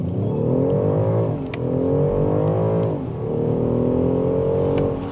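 A BMW 550e in sport mode accelerates hard from a standstill toward 100 km/h. The loud, close engine note climbs steeply, dips briefly at two gear changes and then climbs again.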